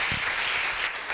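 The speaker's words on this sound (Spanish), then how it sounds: "El aplauso." Applause at a school recycling presentation event, an even, moderately loud clapping from a gathered audience lasting the full second without talk.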